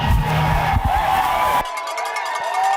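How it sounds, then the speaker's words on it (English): A high school baseball crowd cheering for the Trojans, a loud burst of whoops and shouts from the stands that cuts off abruptly, leaving thinner, higher-pitched crowd noise. "embarrassing cheer from the Trojans as the umpire has a cramp"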